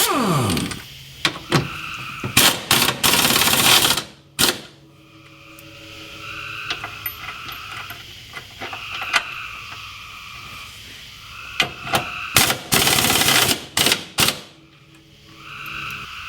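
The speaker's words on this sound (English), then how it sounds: "for ease I'm going to use impact gun" Impact gun driving self-threading bolts into a transfer case skid plate: several loud, rattling bursts of a few seconds each, near and separated by quieter pauses, with a short cluster early and another later.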